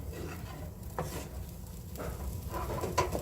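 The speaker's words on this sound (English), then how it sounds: "I'm going to stir all this in." Asparagus and sausages are stirred in a sizzling pan, with a low steady fry and a few scraping clinks of the utensil against the pan.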